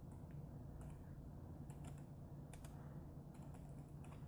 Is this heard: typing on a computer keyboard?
yes